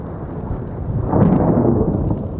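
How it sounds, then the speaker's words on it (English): Thundersnow rumbles during a snow squall in southern Ontario, a low continuous roll of thunder that swells midway, loud and alone with no voices. "We just got thundersnow."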